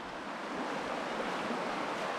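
Steady rushing water of the biggest creek crossing on the trail to Bearden Falls in the Blue Ridge WMA, North Georgia, a continuous broadband wash close by with no talking.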